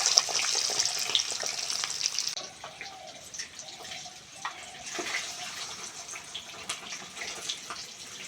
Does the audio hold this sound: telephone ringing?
no